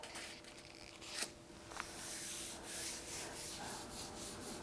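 A hand rubs lightly over a clean sheet of paper laid on a painted gel printing plate, giving a soft, close, continuous scratchy rubbing with a couple of small taps.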